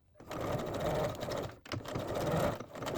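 Sewing machine stitching back and forth to lock a seam on shorts, a steady close mechanical whir in two bursts with a brief pause between as the direction reverses.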